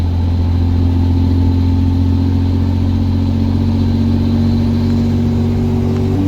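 A stationary truck's engine runs loud and steady, a low droning rumble that holds even throughout with a slight rise in pitch near the end, with no talking.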